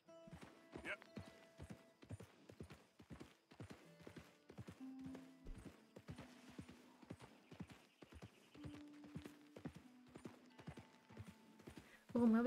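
Horse hooves clip-clop in a steady, rapid rhythm as a mount gallops in Red Dead Redemption 2, with occasional whinnies and faint game ambience; the pounding hoofbeats stay close and continuous throughout.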